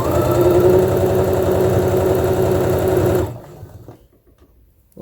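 Sewing machine stitching a long fabric tube for a hooded scarf, running as a steady, loud, close motorized whir for about three seconds before stopping abruptly into near silence.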